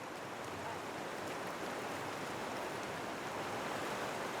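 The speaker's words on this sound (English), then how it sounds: "Even in the summer, this mountain river flows through the valley as a wild stream." The wild Shala mountain river rushes through a valley in northern Albania, a steady, dense roar of flowing water heard alone without any voices.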